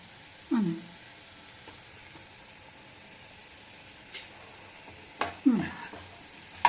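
Carrot palya stirred in a pan on a low sizzle, with a few distinct scraping strokes of a spoon against the pan and a faint background hiss, otherwise quiet.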